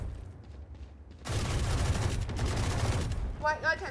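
Loud, sustained automatic gunfire in a shooting video game, aimed at a wall during target practice, starting abruptly after a quiet moment and continuing steadily, with a few brief vocal sounds near the end.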